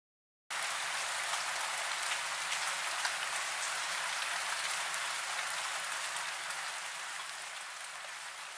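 Heavy rain in an animation, starting abruptly and then holding as a dense, even hiss of falling drops, loud and constant throughout, with no voices.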